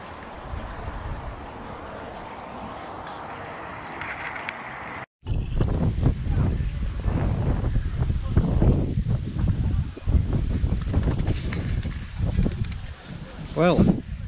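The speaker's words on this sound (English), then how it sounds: "It's a little bit windy." Gusty wind buffets the microphone outdoors at a koi pond in Devon, rumbling and fluttering loudly throughout with a brief dropout midway, while people talk over it.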